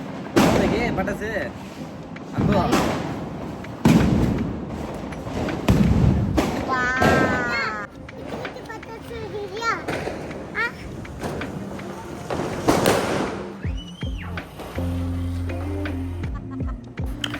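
Diwali firecrackers burst as a series of sharp bangs and thuds at irregular intervals, some near and some farther off, while people talk and shout over them.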